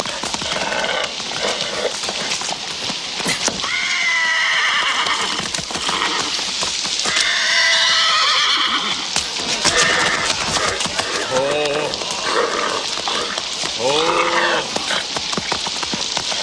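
A horse neighs and whinnies repeatedly, loud and close, with hoof clip-clop and commotion around it.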